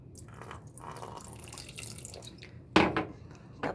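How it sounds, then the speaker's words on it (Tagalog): A little vinegar is poured into pinangat, a tulingan fish stew, with soft kitchen drips, then a sudden brief splash and trickle of liquid close by, quiet apart from that burst. "Tapos lalagyan ko rin yan ng konting suka."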